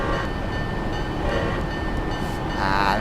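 Union Pacific GTEL gas turbine locomotive on Sherman Hill in the Train Simulator 2016 game, a loud continuous rumbling train run with steady rolling noise throughout, no talking.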